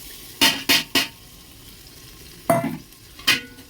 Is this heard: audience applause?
no